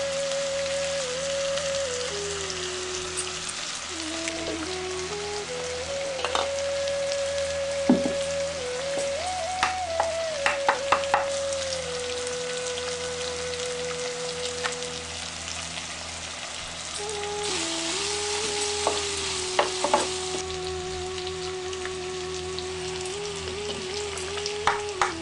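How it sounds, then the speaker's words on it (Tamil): Onions sautéing with salt in a pan for a village-style chicken and egg curry, a steady close sizzle and crackle running throughout with occasional stirring clicks, no talking. "இப்ப உப்பு சேர்த்து வெங்காயத்தை நல்லா வதங்க விட்டுட்டு"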